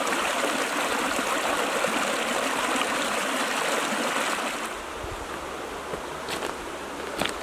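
A mountain stream rushes steadily nearby, a broad continuous wash of water that softens slightly toward the end, with a few faint clicks.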